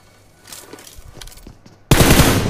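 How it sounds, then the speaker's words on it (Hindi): Kar98 rifle fire in a battle-royale video game, with faint scattered shots and clatter before a sudden loud, sustained burst of gunfire that runs to the end. "ये भाई कार 98 का शॉट उसके बॉडी पे पड़ चुका था भाई"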